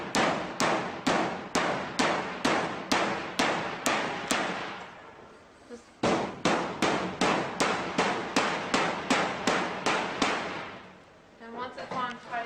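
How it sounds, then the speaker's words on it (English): A rubber piece is hammered into place with a series of loud, evenly spaced blows, two runs of rapid strikes separated by a brief pause, with a faint voice at the end. "and then you want to hammer into place."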